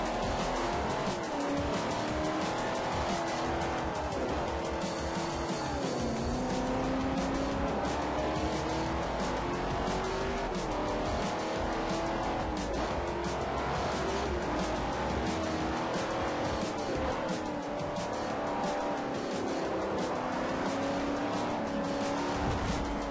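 Ferrari race car engine in Forza 4 racing game, a loud sustained high-revving roar with shifting pitch and brief tire squeal, continuous throughout with no talk.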